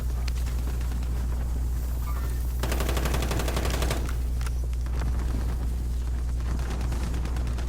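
A Striker SMG fires in the Warzone video game, a loud, rapid burst of automatic fire standing out from a constant low rumble of the game's background noise, with scattered shots before and after.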